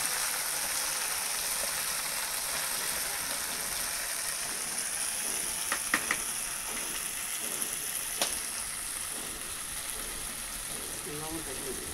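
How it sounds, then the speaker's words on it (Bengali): Spices fry in oil in a wok for an oily koi fish curry. A continuous crackling sizzle runs throughout, with a few sharp utensil clinks partway through and near the end. "মশলাটা কষানো হচ্ছে"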